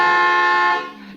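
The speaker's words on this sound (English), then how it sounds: "What are you honking now for?" A 1950s car horn gives one long, loud, steady blast that drops off sharply after about a second, with no voices over it.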